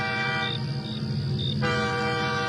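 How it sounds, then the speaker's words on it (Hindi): A distant train horn in a cartoon sounds as a long, steady tonal blast over a rumbling background, shifting pitch partway through, with no speech. "तभी दूर से एक हॉर्न सुनाई देता है।"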